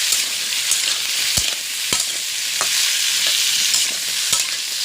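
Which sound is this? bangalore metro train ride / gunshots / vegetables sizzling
vegetables sizzling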